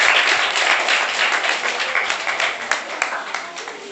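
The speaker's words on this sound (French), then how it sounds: "On l'applaudit encore une fois." An audience at a Lycée Mérina school event applauds, a steady wash of many hands clapping that gradually thins toward the end.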